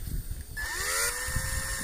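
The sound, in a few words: drill bit drilling into a Jeep XJ part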